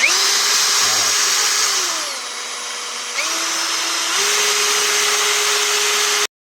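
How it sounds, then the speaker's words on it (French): A restored Parkside angle grinder runs loud and steady on its own, with its whine shifting pitch a few times before it cuts off abruptly. "La machine marche bel et bien."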